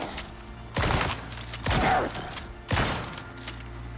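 Shotgun blasts in the video game Icarus, three loud heavy booms spaced about a second apart, each with a short rumbling tail, over a low steady hum.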